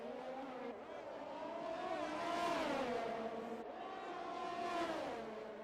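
Formula 1 race cars scream through Monaco in a racing game, high-pitched engine whine rising and falling as gears shift, heard fairly faint and continuous.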